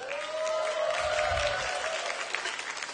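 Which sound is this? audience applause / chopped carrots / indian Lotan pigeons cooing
audience applause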